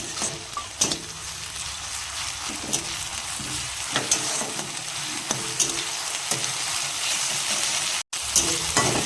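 Ginger-garlic paste sizzles steadily in a pan of fried onion and chopped chili, with repeated sharp scrapes of a spatula stirring through the hiss at close range.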